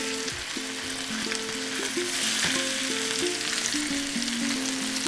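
Flour-coated chicken pieces fry steadily in a pan, giving a loud, even sizzle and crackle with background music underneath and no talking.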